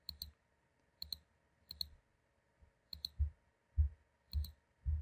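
Mouse button clicks on a computer while working in Google Drawings, arriving as quick double clicks in a steady rhythm, close and crisp, with soft thumps underneath and no talking.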